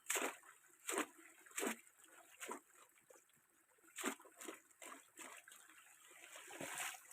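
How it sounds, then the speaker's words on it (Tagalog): Water is poured and splashed over bonsai roots to rinse away mud, producing repeated soft splashes and trickles in irregular bursts. The sound is quiet and close, with no talking. "Agad ko namang itong uhugasan ng tubig para tuluyang maalis lahat ng mga putik sa kanyang mga ugat"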